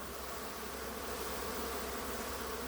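Honeybees swarm around their hives in a dense, continuous buzzing drone, close and steady, with no voices.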